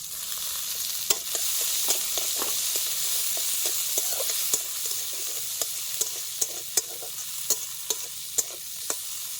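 Chopped onion and green chili frying in mustard oil in a pan, a steady soft sizzle punctuated by sharp clicks and scrapes of a spatula stirring at irregular intervals, close and without talk.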